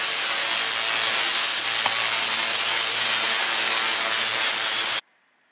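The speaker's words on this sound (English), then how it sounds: "The easiest way that I found to cut the tubing was with a compound miter saw." Compound miter saw slicing through tubing, a steady loud broadband whine holding for about five seconds before cutting off abruptly into near silence.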